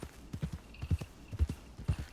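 Horse hooves clip-clop in WildRP, a 1904-set roleplay video game, as a steady walking rhythm of about five paired hoofbeats, close and moderately loud.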